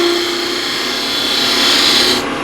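Woodturning gouge cutting wood on a lathe and throwing curly shavings, a continuous close, loud rasping hiss with a faint steady tone underneath, cutting off abruptly near the end.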